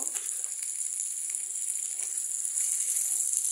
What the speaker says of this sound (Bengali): আগে ইলিশ মাছটাকে আমি তেলে ভাজলাম